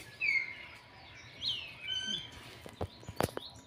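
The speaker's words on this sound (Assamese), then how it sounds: "ভাটৌটোৱে বাইদেউ মাতি আছে" A pet parrot at home in the morning, hungry and waiting to be fed, gives several faint, thin whistling calls and chirps, followed by a few soft clicks in a quiet room.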